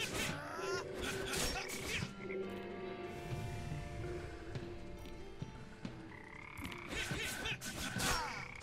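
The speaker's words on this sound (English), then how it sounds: "Hey, frogs." Frogs croak repeatedly in the video game Mulaka, a steady chorus of calls that carries on under background music, with a voice breaking in at moments.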